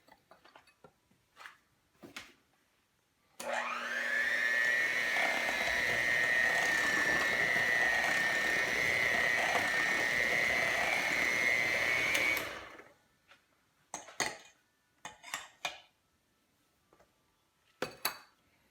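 An electric mixer whirs steadily for about nine seconds, beating cupcake batter after vanilla extract goes in, for pineapple upside-down cupcakes. Faint clinks of bowls and utensils come before and after it.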